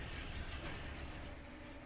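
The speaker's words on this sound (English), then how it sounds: "I didn't catch my train taking off." A train in Train Simulator Classic pulls away with a faint, steady rumble and low rolling clatter, brief and constant.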